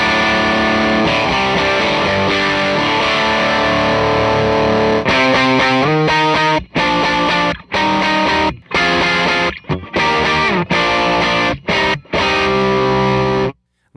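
Distorted electric guitar through a SoloDallas SVDS boost pedal plays sustained chords, then choppy stop-start strums with sharp cutoffs between them.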